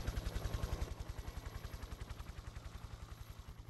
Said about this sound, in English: Looks like there's gonna be fireworks.